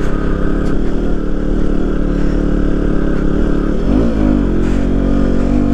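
A KTM Duke 125 motorcycle labors up a steep off-road hill in low gear, its single-cylinder engine a loud, steady, close drone under load, with a brief change in pitch partway through.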